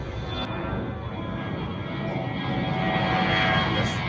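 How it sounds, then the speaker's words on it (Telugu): An airplane flies past overhead in Ahmedabad, a continuous, fairly faint engine roar that swells slightly toward the end, with no talk over it. "అలా వెళ్తున్న ఫ్లైటే"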